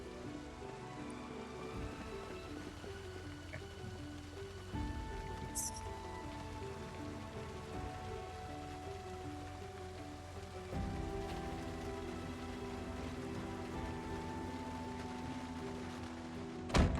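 Steady rain falls throughout the Project Zomboid game world, a soft continuous hiss of drops with low background tones and no voices.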